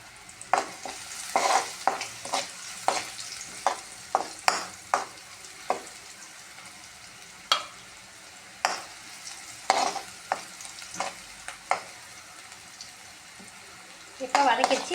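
Bitter gourd sautéing in oil in a pan with extra oil added, a soft steady sizzle broken by frequent sharp spatula scrapes and taps against the pan, irregular and close, with louder clattering stirs near the end.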